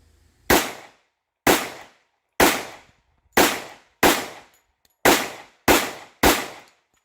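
A Girsan 1911C .45 ACP pistol fires eight brass-cased hollow-point rounds, each loud, sharp report ringing out alone at a steady, slightly uneven pace of roughly one shot every 0.8 seconds.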